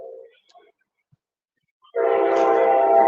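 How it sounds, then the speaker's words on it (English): Train rolling along railroad tracks in Florida, starting suddenly as a loud, steady rumble with a strong horn-like tone after a quiet stretch with a faint voice at the start. "I don't know if y'all can hear the train or not"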